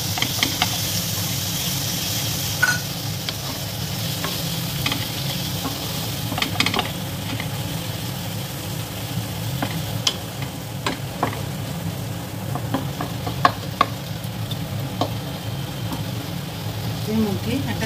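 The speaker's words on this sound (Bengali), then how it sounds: "এবার ভালোভাবে নেড়ে চেড়ে নেব।" Spices frying and being stirred in a pan with a splash of water while cooking soybean pulao: continuous sizzle and hiss with scattered scraping and clinking of the spatula, and a voice talking over the cooking.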